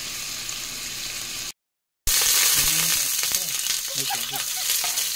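Garlic, onion and ginger sauté in a little oil as the base for a mung bean balatong stew, giving a steady close sizzle that cuts out briefly and then returns with stirring, while a person talks over it.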